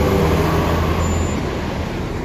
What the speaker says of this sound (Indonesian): Ini bisnya ternyata kenceng juga itu, bis Harapan Jaya ini